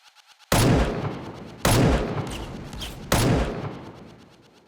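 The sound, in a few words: Colt 1911 gunshots in a video game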